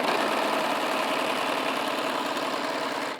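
A Pfaff Admire Air 7000 coverlock serger chaining off with no fabric: a fast, even mechanical stitching chatter close by, continuous for about three seconds before easing off at the end.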